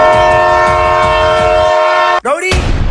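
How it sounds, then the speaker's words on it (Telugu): A train approaches along the track, sounding a loud, sustained multi-tone horn for about two seconds before a sudden rushing whoosh as it passes close by, with rumbling noise continuing afterward. "ట్రైన్ చాలా దగ్గరికి వచ్చేస్తుంది"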